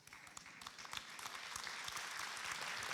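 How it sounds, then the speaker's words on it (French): An audience at a congress award ceremony applauds, a dense wash of many hands clapping that swells slightly, heard from a distance and fairly faint. "Merci à vous sur vos applaudissements."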